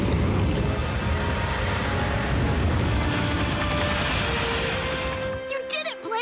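Cartoon rescue-bot helicopter's rotor in flight amid ash from a downtown fire: a loud, steady whooshing drone with rhythmic rotor chop, ending with a short sputter as the rotor falters.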